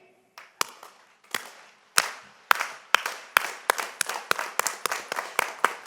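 A commencement audience claps in unison, starting with a few slow, separate claps that quicken into a steady, accelerating rhythm of sharp crowd claps.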